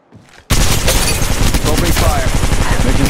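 Sustained automatic gunfire in Apex Legends, played on an iPhone 12, bursts in abruptly after a quiet moment and continues as a loud, dense fusillade of rapid shots with no break.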